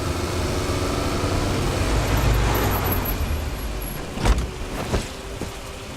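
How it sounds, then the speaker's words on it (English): Cars pull up in a video game mission cutscene, a steady rumble of engines and road noise with a couple of sharp door or brake thumps near the end. "I like these cutscenes of cars arriving."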